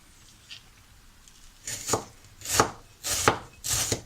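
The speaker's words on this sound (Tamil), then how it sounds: "ஒரு மீடியம் சைஸு ஆனியன் எடுத்துகிட்டு நான் நீல வாக்கில் வந்து கட் பண்ணிக்கிறேன்" A knife slices a medium-size red onion lengthwise on a board, with four firm, evenly spaced chops after a faint tap, close and clear with no talk.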